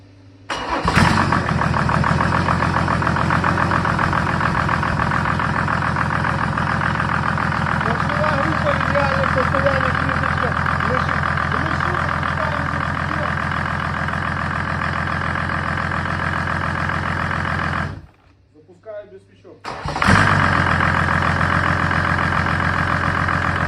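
A Mercedes OM606 turbo diesel engine cranks and catches, then idles loudly and steadily. It cuts out briefly and starts again.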